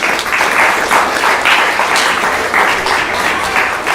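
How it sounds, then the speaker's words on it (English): An audience at a Sunday evening temple program gives a sustained round of applause, loud and steady with dense overlapping claps for the full four seconds. "Please give them a big round of applause."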